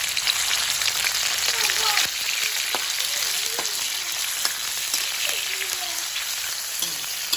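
Garlic frying in a pan, cooked until golden for a Thai stir-fry of straw mushrooms and glass noodles, giving a steady, fairly loud crackling sizzle throughout with a few faint clinks and no talk.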